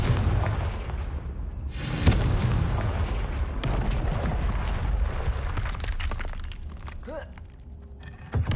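A Confringo blasting spell from Hogwarts Legacy erupts as a loud, booming explosion with a crackling rumble, followed by scattered shattering debris and fading magical whooshes.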